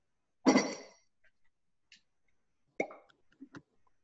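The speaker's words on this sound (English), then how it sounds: "Good cork pop, solid." A cork pulls free of a bourbon bottle with one sharp, hollow pop, followed by a few faint clinks and small handling sounds in an otherwise quiet room.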